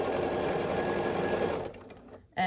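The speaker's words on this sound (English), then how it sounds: "I'm sewing these sashing pieces that we just made to the block row to make the block row" A sewing machine stitching quilt sashing pieces onto a block row, a close, steady whirring run that stops after about a second and a half, followed by a few faint handling clicks.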